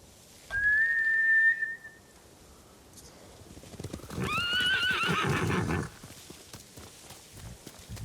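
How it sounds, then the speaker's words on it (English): Samurai war horses in the video game Ghost of Tsushima give two loud whinnies a few seconds apart, mixed with hoofbeats, as they are scared off. No one speaks. "Bastards scared off the horses."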